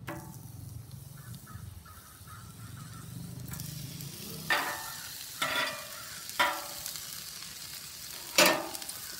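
Onions fry in bacon grease on a Camp Chef Pro 90X griddle, a soft steady sizzle broken by several sharp scraping strokes of a spatula stirring them, close by with no speech.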